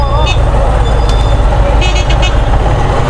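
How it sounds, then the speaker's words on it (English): A car turns around on a busy Cairo street amid steady traffic rumble, with a few short horn toots cutting through the constant, loud road noise. "This car's trying to turn around."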